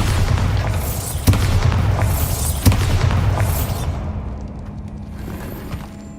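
A Bombarda blasting spell explodes in the Hogwarts Legacy video game, loud booming blasts with sharp cracks about every second and a half, then rumbling debris that fades into quieter ambience.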